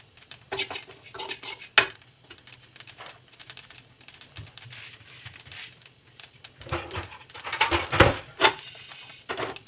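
Black sesame seeds crackling and popping in a pan while being stirred with a metal spoon for avalakki laddu, giving rapid light patter and scraping clinks, close and steady with a few louder knocks.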